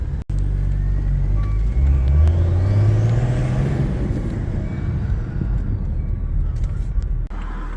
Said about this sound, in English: you do hear those sexy ass diesel noises